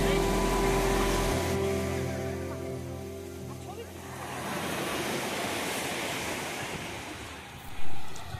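Sea waves roll onto Puri beach as a steady, broad wash of surf mixed with wind, starting after a brief tonal sound and swelling near the end.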